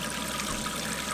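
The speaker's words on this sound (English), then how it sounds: "And the pump's kicked in." A small water pump runs steadily in a portable camping shower, giving a constant rushing hiss of flowing water with an even low hum and no break.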